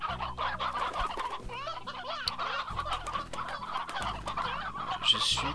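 Chickens clucking in the video game Slime Rancher, a busy cluster of short fowl clucks and squawks over steady low game music, with one sharper call near the end.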